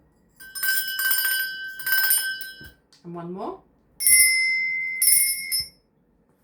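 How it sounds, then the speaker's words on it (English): A bright bicycle-style bell rings twice with shimmering, rapid strikes, a person speaks briefly, then a second, different bell rings once more. "I will be ringing 2 different bells"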